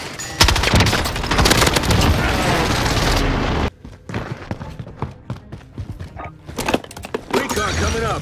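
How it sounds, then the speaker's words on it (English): Airstrike explosions in Call of Duty Warzone: a dense, loud rumbling barrage of blasts and crackling debris for several seconds, then a sudden drop into scattered sharp bangs and gunfire-like cracks, with game radio chatter over the top. "Marking airstrike target. Phoenix 3, strike inbound."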